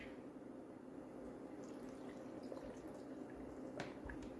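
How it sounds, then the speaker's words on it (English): Water pours steadily into a blender with a continuous splashing, trickling wash, fairly quiet and close, with a few brief drips near the end. "So we're gonna add our water here,"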